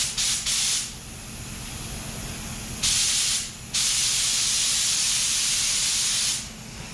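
Compressed air spraying through a body shop spray line with moisture in the hose, three loud hissing bursts separated by short pauses, each sustained for about a second to three seconds over a low rumbling background.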